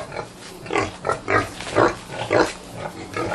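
Pigs on a pig farm, including a breeding boar and pregnant sows, give a steady series of low, rhythmic grunts at close range, about a dozen in a row with no voices over them.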